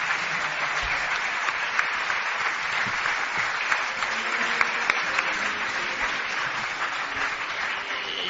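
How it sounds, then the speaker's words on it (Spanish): Sustained audience applause at a live recording of the Spanish radio and podcast show Milenio 3, a dense, steady wash of clapping filling the whole stretch with no talk over it. "El último aplauso que sea para el miembro más joven de Cuarto Milenio y de Milenio 3"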